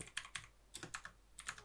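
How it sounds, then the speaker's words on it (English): Typing on a computer keyboard while entering a title in Premiere Pro, with quick bursts of light key clicks in small clusters, close and fairly quiet, with no talk. "you can start typing your title"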